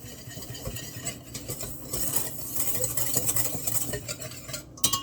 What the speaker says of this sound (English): And you want to just whisk that together and get everything incorporated.